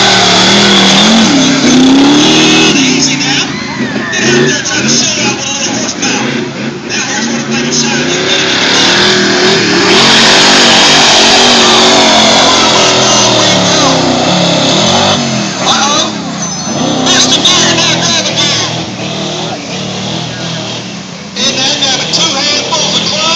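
An off-road vehicle engine roars loudly and revs continuously during a run at an off-road event, with voices talking over the racket.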